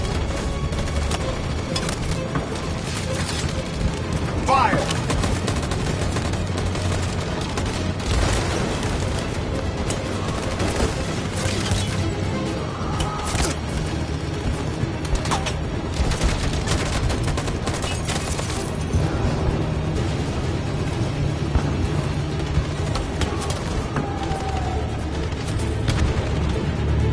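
Sustained video-game battle gunfire on a PS4 title, a dense continuous fusillade of rifle shots and booms filling the whole stretch at steady loudness, with no voices over it.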